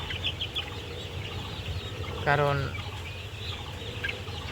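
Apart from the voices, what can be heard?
Sonali chickens clucking on a farm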